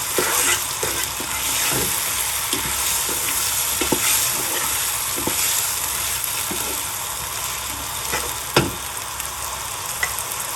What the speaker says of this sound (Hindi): इसी तरह मिक्स करेंगे।